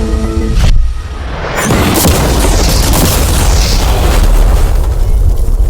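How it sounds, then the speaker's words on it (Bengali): A loud, close explosion bursts out and is followed by a long, heavy roar and rumble that fills the rest of the clip. "বিস্ফোরণটা এত জোরে হয়েছে যে ভিতরের গুলো ছিটকে এদিক ওদিকে বেরিয়ে গেছে"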